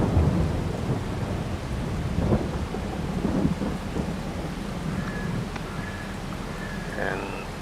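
Rain and thunder on a farm in Farming Simulator 22, with a deep rumbling roll over a continuous hiss of falling rain.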